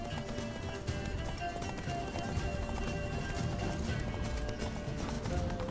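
Roach the horse gallops hard in The Witcher 3: Wild Hunt, with a fast, continuous run of hoofbeats close up and a whinny mixed into the dense in-game soundscape.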